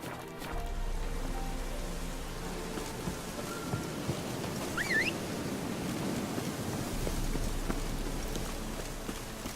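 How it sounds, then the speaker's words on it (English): Steady rain falls in The Witcher 3 video game, a continuous hiss of drops with a low rumbling undertone, with no talking over it. "Seems like it's been raining in this game forever."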